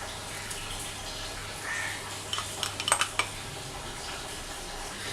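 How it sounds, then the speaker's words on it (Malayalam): Fried ginger and green chillies being stirred into thickening tamarind in a pan for Kerala puli inji, with a brief cluster of faint metallic clinks and scrapes over a low background hum. "ഇഞ്ചിയും പച്ചമുളകും കൂടി ഇട്ടിട്ട് ഇത് നന്നായിട്ടൊന്ന് ഇളക്കി കൊടുക്കുക"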